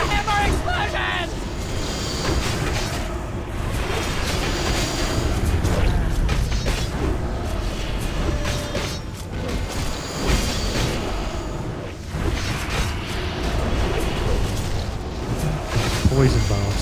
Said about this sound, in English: Explosions! More explosions!